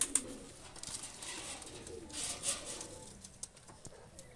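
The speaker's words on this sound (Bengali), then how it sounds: "দুটা কবুতর ছেড়ে দেখাচ্ছি আমি" Pakistani high flyer pigeons cooing in low soft bursts, close but quiet, with faint rustling and thumps in the background.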